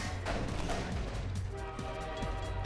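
A train in the Half-Life 2 video game rumbles with a low, steady mechanical drone and faint tonal hum, loud and continuous throughout.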